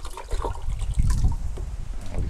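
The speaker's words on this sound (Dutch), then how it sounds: "Water erbij en dan vullen we hem tot 100." Water poured into a foam cannon bottle, an uneven gurgling trickle with a louder splashing surge midway, close to the microphone and without talk.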